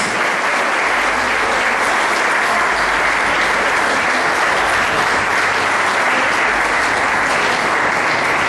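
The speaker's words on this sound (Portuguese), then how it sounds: "Aplauda Jesus." A church congregation applauds loudly and steadily in praise during a worship service, a dense, continuous roar of clapping that holds at full strength throughout with no talk over it.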